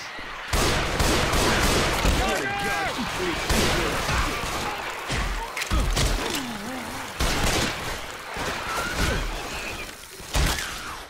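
Rapid gunfire bursts and impacts from a Left 4 Dead 2 zombie shooter game, loud and dense with crashes and smashes throughout, under a busy in-game mix.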